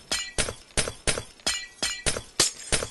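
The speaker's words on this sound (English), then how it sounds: "The sound of breaking glass." Glass blocks break in the video game Minecraft, eight or nine sharp shattering crashes at a quick, even rhythm. Each crash is bright and clinking, up close and alone, with no voices.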